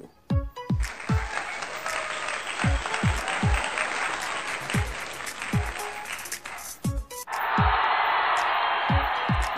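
Steady crowd applause fills the whole stretch, dense and close, swelling louder near the end, with repeated sharp low thumps punctuating the clapping throughout.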